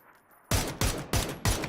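Four loud gunshots fired in a video game at an even, quick pace, each a sharp crack with a short decaying tail.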